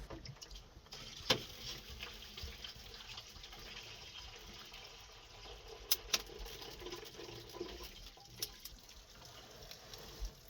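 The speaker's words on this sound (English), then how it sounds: "I'm adding a jug of hot water to melt their water dispenser." Hot water pours from a jug into a frozen water dispenser on a rural homestead in winter, a soft steady trickle and splash with a few sharp clinks, fairly quiet throughout.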